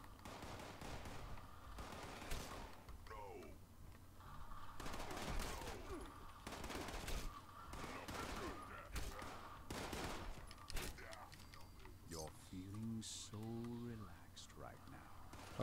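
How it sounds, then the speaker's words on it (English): Bursts of gunfire in Fallout 76 on Xbox, repeated sharp shots and short volleys spread across the clip, with someone talking over them. "So what the fuck are these idiots shooting at now then?"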